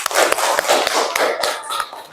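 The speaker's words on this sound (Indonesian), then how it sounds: "Ya, tepuk tangan dulu untuk kita semua." A class of schoolchildren claps hands together in a room, a dense, steady burst of close applause lasting about two seconds with a few sharper slaps standing out, no talk over it.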